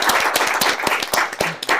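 An audience at a live musical evening gives a brief burst of dense, loud applause, many hands clapping at once with sharp claps standing out.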